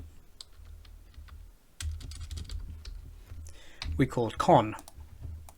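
Computer keyboard keys click in sparse taps and then in a quicker burst while someone talks over them, close and clear.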